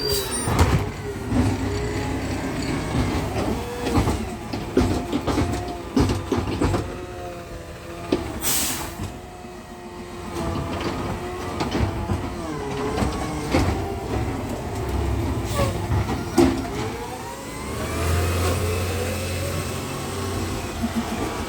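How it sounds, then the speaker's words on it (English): A heavy truck pulls away, its engine rumble and rattling mechanical noise holding steady at moderate distance, then swelling briefly near the end, with no talk. "There goes my truck."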